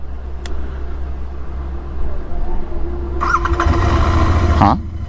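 A motorcycle with a self-start that will not catch cranks and whirs for a few seconds, rising briefly before cutting out, over a low steady background rumble; someone talks nearby.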